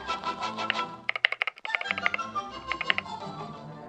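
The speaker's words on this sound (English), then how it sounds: "the keyboard with clicky sounds" Rapid clicky keystrokes on a mechanical keyboard, a fast irregular flurry of sharp taps close by, with faint background music underneath.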